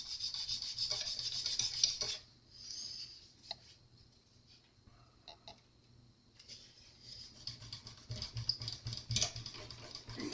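A cloth rubs and wipes over the frets of a classical acoustic guitar during cleaning, heard as close, soft scratchy strokes that come in bursts with a quieter pause in the middle.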